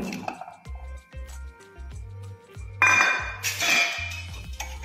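Paneer stirred in a spoonful of oil in a pan, with the spoon repeatedly scraping and clinking against the metal and a brief burst of hissing sizzle toward the end.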